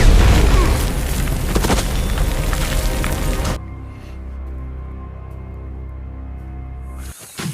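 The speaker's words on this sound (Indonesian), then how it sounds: "Melihat tak ada harapan untuk lari, wanita tersebut meledakkan diri dengan granat." Grenade explosion in a war film, a loud heavy blast with a roaring, crackling rumble for a few seconds that cuts to a quieter low hum.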